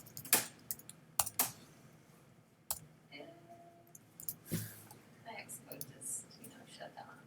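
Quiet, irregular clicks of a computer keyboard being typed on, with scattered sharper key strikes and a soft voice murmuring in the background.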